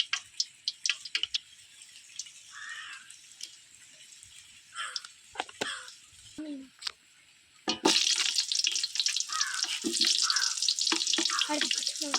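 Whole spices, cinnamon, fennel and cloves, fry in oil and ghee for chicken biryani, sparse crackles and pops at first, then a dense steady sizzle from about eight seconds on, close and with no talking.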